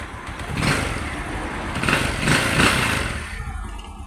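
A car engine that struggles to hold its idle is cranked and started, giving a loud, continuous rough mechanical roar with surging rises in intensity close by, and no talk.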